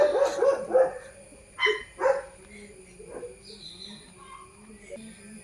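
A dog barking downstairs in a house, a few sharp barks clustered early, then fainter yips and low indoor background sound.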